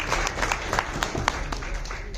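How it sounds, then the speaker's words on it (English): An audience at a BNI Champions business event in Raipur gives a round of applause as a speaker comes on stage, with steady crowd clapping and occasional sharper claps standing out. "We welcome you, sir, on stage with a round of applause"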